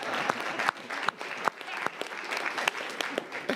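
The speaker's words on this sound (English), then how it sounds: "Let's clap." Audience applause at a city commission meeting: a room full of people clapping steadily for several seconds, dense and fairly loud, with a few voices mixed in.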